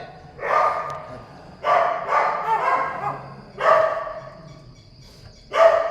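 A dog barks in five loud, separate bursts spaced about a second apart against a quiet background.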